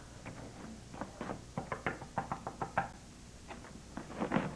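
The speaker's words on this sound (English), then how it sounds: "Bell out of order. Please knock." Repeated knocking on a door during a 1993 stage production of The Wizard of Oz in Darlington, Wisconsin: a steady run of sharp, fairly close raps in uneven clusters, with no talk over them.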